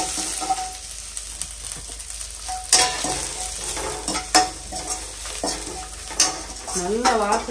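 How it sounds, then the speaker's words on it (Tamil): Dried red chillies, curry leaves and spices sizzle and crackle in a hot pan for rasam while a utensil stirs and scrapes against the metal at irregular intervals. "எல்லாத்தையும் ஒண்ணா போட்டு லைட்டா வதக்கலாம்"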